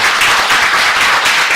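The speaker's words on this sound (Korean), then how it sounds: "잠시 일어나시면 환영의 박수를 부탁드리겠습니다" A church congregation claps in welcome for a visiting member, a dense, loud, sustained burst of applause filling the room with no talk over it.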